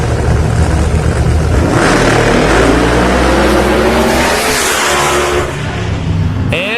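Drag racing car on a test run at Bradenton Motorsports, a loud close engine roar that rises in pitch as it accelerates down the strip, then drops away as the throttle is lifted, no talking.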